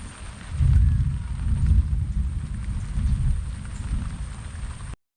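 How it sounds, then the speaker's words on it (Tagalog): Rain falls outdoors in a steady, continuous patter and hiss with some heavier low rumble, holding at a fairly even level throughout, with no talk. "yan ang maulan po ngayon din eh"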